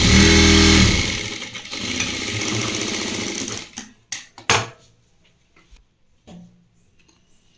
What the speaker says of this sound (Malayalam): എന്നിട്ട് ഇതിൻ്റെ ഒരു 1/4 ഇഞ്ചിൽ ഇങ്ങനെ തയ്ച്ചു കൊടുക്കുക.